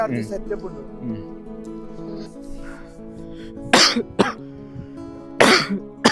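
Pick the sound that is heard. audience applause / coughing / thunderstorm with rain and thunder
coughing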